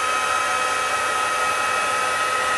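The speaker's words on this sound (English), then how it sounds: "And now with the heat tool, just going to set it." Steady, loud blowing roar of a heat tool setting embossing powder on a handmade card, a continuous broadband hiss held close without any change in pitch.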